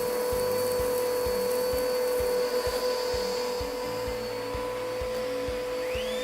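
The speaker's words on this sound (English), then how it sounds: "Now, we will vacuum up this cup of dirt and check the airflow speed." An As Seen On TV Quantum Vacuum with paper filters sucks up a cup of dirt, a steady loud motor whine with a constant tone over faint rapid ticking and rattling of debris.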